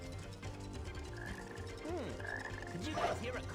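A frog croaks a few times in the Sonic Heroes video game, the rising and falling croaks sitting over steady game music and effects.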